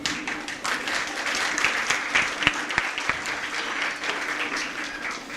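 An audience at a school annual prize distribution ceremony breaks into loud, sustained applause, dense clapping from a large crowd close by that holds steady before easing slightly at the end.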